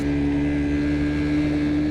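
A 1997 Honda Chaly C50 four-stroke moped climbs uphill with a steady, continuous engine drone, a strong low hum holding constant close by with no breaks.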